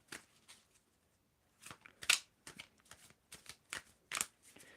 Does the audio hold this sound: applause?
no